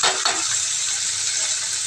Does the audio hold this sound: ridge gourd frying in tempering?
yes